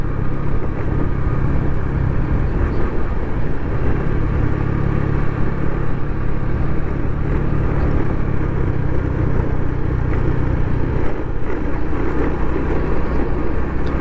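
A small motorcycle loaded with odd-looking baggage rides a country road in Bolivia, its engine drone steady and continuous under strong, roaring wind noise for the whole stretch.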